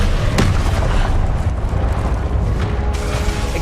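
A fiery Confringo spell blast from the game Hogwarts Legacy bursts loudly with a sharp pop, then a rolling, rumbling explosion that stays dense and close throughout.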